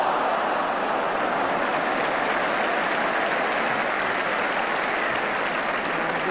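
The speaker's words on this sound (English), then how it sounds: "Villa gets applause" Football crowd at a 1982 Tottenham versus Southampton league match applauding a player, a dense, continuous wash of clapping from a large stadium audience, steady and distant without breaks.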